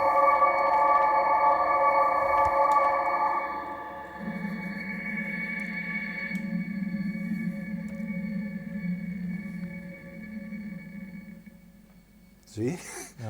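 A synthesizer built from test equipment, its pitch wandering under a low random control voltage, gives sustained buzzing electronic tones that shift and drop partway through, with a short voice near the end.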